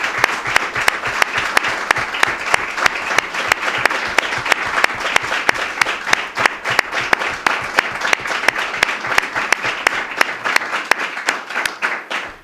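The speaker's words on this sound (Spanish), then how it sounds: "recibe este aplauso de reconocimiento" Applause at a PSOE democratic memory event in Rute, a large crowd clapping loudly and continuously with some sharp individual claps standing out, sustained for over twelve seconds before tapering at the end.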